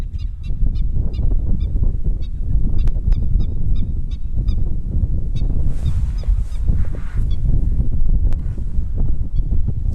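Quick, repeated high calls of a black-winged stilt ring out over steady low wind rumble in Botswana, a run of short notes in the first seconds, then sparser calls further on.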